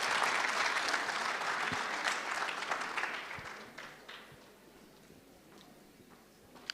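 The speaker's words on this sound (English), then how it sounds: "Can we give the Honorable Deputy Minister another round of applause" Audience applause at a national ICT summit fills the room, a dense clapping that stays strong for a few seconds, then thins out and fades to scattered claps.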